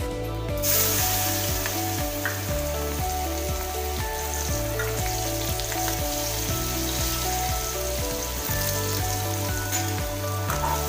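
Chopped onions hit hot oil already seasoned with turmeric and curry leaves for a black chana curry, producing a loud, continuous sizzle that holds steady throughout, with music playing underneath.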